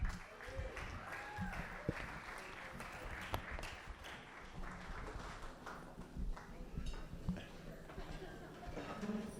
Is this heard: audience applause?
yes